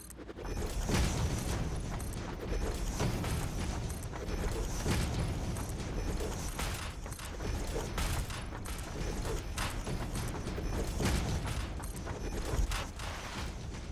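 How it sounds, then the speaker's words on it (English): Zooping to build in the factory game Satisfactory produces a dense, steady run of rapid mechanical clicks and creaky placement sounds, loud and continuous throughout, with no voices. "All right. Zooping."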